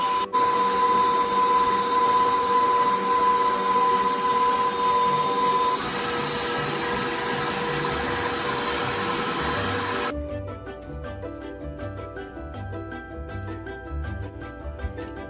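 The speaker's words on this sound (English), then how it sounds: "we're gonna stir that at around medium For 5 minutes until it's fluffy." A stand mixer whirs steadily at medium speed, stirring lime pie filling; the motor drone holds loud and close, then drops to a quieter, duller churn partway through, with no talking.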